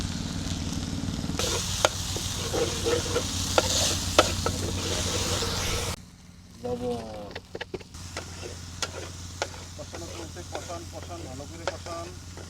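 Turmeric and chili powder frying in hot mustard oil, a dense close sizzle with frequent spatula scrapes; the sizzle drops sharply midway and then settles into quieter crackling with clicks of stirring.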